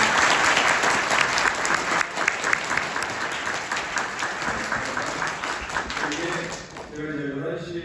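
A conference audience gives sustained, loud applause for Professor Hong, with dense clapping that rolls on for several seconds before thinning, and a voice speaking in the closing moments.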